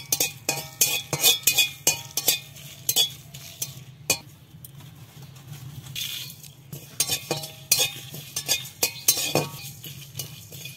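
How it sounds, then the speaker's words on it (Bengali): A metal spatula scrapes and clinks in a pan while dried chillies, coriander and cumin are dry-fried on a new stove, rapid irregular clatter close up with a soft sizzle underneath. "আর হচ্ছে শুকনো লঙ্কা আর ধনে আর জিরা হচ্ছে ভেজে নেব।"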